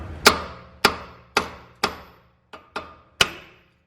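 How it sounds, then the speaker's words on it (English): Seven sharp metallic hammer strikes on a car's tie rod end ring out close by at a steady, slightly uneven pace, each decaying quickly into silence. "we can either try to hit it with a hammer"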